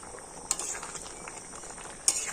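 Ghugni, a pea curry with potatoes, boiling in a pot, a steady bubbling simmer with soft stirring scrapes and a couple of sharp clinks, close and moderately quiet.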